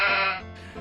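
A sheep bleats once, a short wavering cry that lasts under a second, close and fairly clear with nothing else around it.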